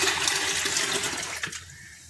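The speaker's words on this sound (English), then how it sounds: "So go ahead right now and pour it into your jug" Lime juice poured into a jug makes a steady close splashing, gushing stream that runs for about a second and a half, then thins to a quieter trickle and stops.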